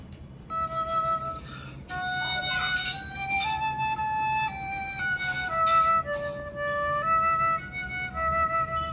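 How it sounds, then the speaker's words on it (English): A flute plays a slow melody of clear sustained notes, stepping up and down in pitch, steady and close with no voices. "This is the sound of the flute."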